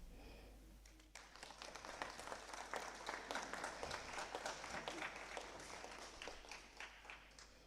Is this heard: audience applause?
yes